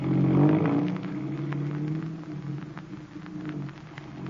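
A chauffeur-driven car pulls away in a radio drama, its engine rumbling loudly at first and then settling into a steady drone that fades slightly as it drives off.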